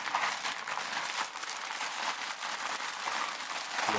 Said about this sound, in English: Run the wire through the plastic,